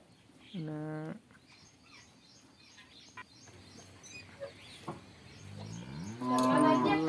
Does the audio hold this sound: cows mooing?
yes